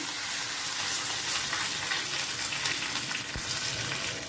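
A ladle of hot oil sizzles loudly and steadily as a tempering of cumin seeds, asafoetida, green chillies and curry leaves fries in it, with one brief sharp crackle near the end.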